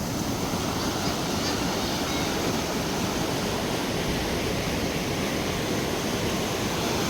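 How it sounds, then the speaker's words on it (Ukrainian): River rapids at Sister Falls in Pinawa, Manitoba, a wide steady roar of rushing water over rocks, loud and continuous throughout with no voices. "Це вони називають водопадом, але якщо чесно, це не водопад, це просто пороги."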